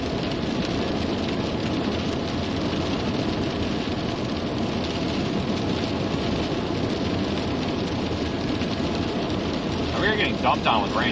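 Heavy storm rain pours down steadily and loudly during a flash-flood-warning storm chase, a dense, unbroken hiss through the whole stretch with a few brief tonal sounds near the end.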